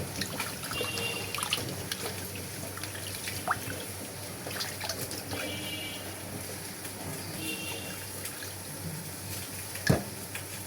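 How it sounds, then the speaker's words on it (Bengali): Radishes being washed under running water at home produce a steady trickle and splash of flowing water, with faint drips and one brief knock near the end, close and continuous. "মূলাগুলো ধুয়ে পানি ছড়াতে রাখলাম"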